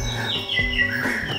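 A white-rumped shama songbird sings varied, sliding whistled phrases at close range, clear and fairly loud over a faint background hum, with no voices.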